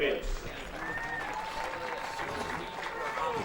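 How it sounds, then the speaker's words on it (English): Crowd applause at a college softball championship stadium, a steady wash of distant clapping and crowd noise with a voice heard over it. "Applause for all our participants."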